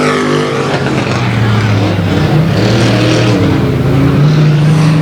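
Stock race cars roar around a speedway turn at 281 Speedway, engines loud and close, with several overlapping engine notes rising and shifting as the pack passes.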